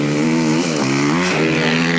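A special motocross bike built to cross the Strait of Messina drones loudly and close, its engine note wavering up and down as the revs shift, with no pause.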